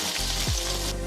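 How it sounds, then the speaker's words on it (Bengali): Fried potatoes sizzle in a pan as they are stirred into a jackfruit curry, a steady close frying hiss with a brief scrape of the spoon. "ভাজা আলুগুলো দিয়ে আমি একটু নাড়িয়ে নিলাম"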